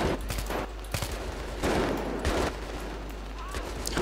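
Sustained gunfire from Battlefield 3 in a co-op mission, with rapid shots cracking in loose bursts close up over a steady low rumble.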